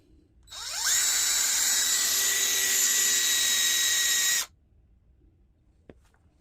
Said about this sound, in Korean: 여기다 이제 드릴로 이렇게 4군데를 뚫는 거예요.